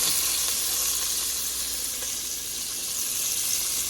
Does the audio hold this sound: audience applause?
no